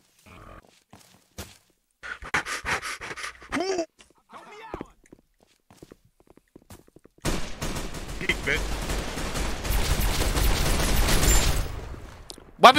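Gunfire in a Fallout roleplay game: scattered shots and thuds early on, then a sustained, loud barrage of rapid fire filling the final seconds, with players' voices mixed in.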